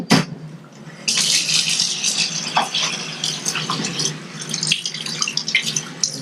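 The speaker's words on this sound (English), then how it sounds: "Gonna rinse off some of the soapy water because it's kind of caustic." Tap water splashes and runs over soapy hydraulic cylinder parts from a Chevrolet Silverado 5500HD, a close, steady hiss of flowing water with rattling knocks as the metal pieces shift in the sink.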